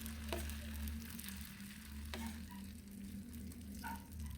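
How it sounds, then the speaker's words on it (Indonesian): Potato pizza batter is poured into a pan of hot oil and fries with a steady, close sizzle, broken by a few sharp spoon clinks against the pan, and no one talks. "Nah, minyaknya udah panas baru dituang adonannya."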